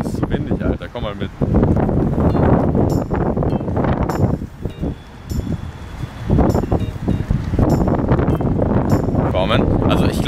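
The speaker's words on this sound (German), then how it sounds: "das ist so windig" Strong outdoor wind buffets the microphone in heavy, roaring gusts, with rustling throughout and a brief lull in the middle.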